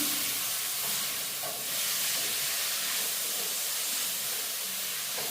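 Drumstick leaves and cabbage frying together in a pan at home while being stirred, giving a steady, close hiss and sizzle that runs without pause and with no voices.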